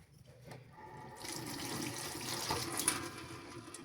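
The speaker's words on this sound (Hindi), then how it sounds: "अब हमने इसके अंदर पानी भर लेना है" Water runs steadily into a jar packed with lemons, a soft trickle that builds into a fuller, bubbling pour and continues without talk.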